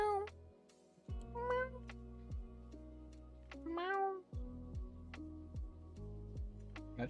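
A cat gives several short, rising meows close up over a steady low purr, with faint ticking in the background and no talk.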